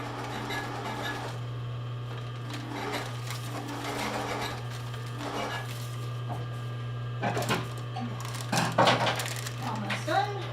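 A sewing machine hums steadily as it bastes long stitches on a sports bra, with faint clicks and small handling knocks over a quiet room.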